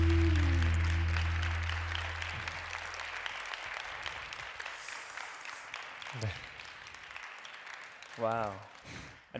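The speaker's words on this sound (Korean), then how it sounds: "큰 박수로 환영하겠습니다." A church congregation claps to welcome a guest at a newcomers' worship service, a broad crowd of applause that gradually fades, with music and a voice briefly heard near the end.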